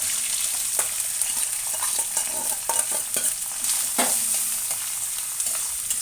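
Onions dropped into hot oil in a pan and frying while being stirred, for an okra, potato and sweet corn fry curry; a steady close sizzle with scattered scraping stirs and clicks, no talking.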